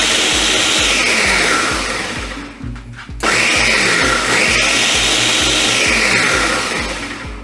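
A food processor pulses butter and flour into fine breadcrumbs for a rhubarb crumble topping, its motor whirring loudly in rapid, rhythmic chops, briefly dying down midway before resuming at full force.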